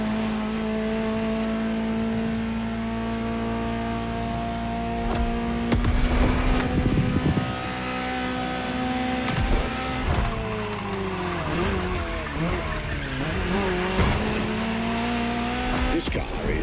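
A Ferrari GTO, a special version of the 308 GTS, drives in The Crew Motorfest racing game, its engine droning steadily and shifting pitch as it revs, with brief tire squeals and skids along the way.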